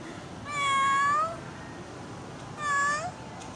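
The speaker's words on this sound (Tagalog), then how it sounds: "Meow." A cat meows twice, close and clear, with rising then falling drawn-out cries separated by a brief pause, set against quiet outdoor background noise near a canal.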